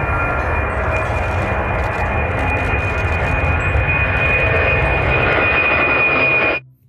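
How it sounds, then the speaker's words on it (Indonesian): Toy airplane engine sound effect: a loud, steady roaring whoosh with a thin high whine running throughout, stopping abruptly near the end. "Wow, lihat, ada pesawat terbang."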